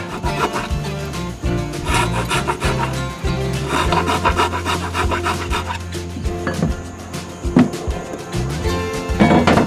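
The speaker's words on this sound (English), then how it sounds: "At this point, we're cutting the hole so that the tang has a place to come up through the deck." Power tool cutting a hole through a boat deck to fit a baby stay tang, a loud, continuous rasping, grinding whine with rhythmic pulsing and shifting pitch, close up and without speech.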